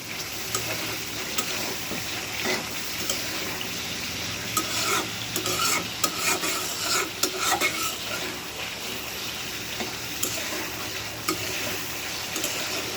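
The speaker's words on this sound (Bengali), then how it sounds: "ডিম রান্না করতেছি।" Eggs cooking in a pan, with continuous sizzling and frying and repeated scraping and stirring strokes against the metal, steady and close with no talking.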